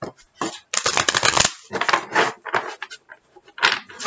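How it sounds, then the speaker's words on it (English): Crisp papery riffling in several bursts with short pauses between, close by, like a tarot deck being shuffled by hand. "Okay, one last shuffle."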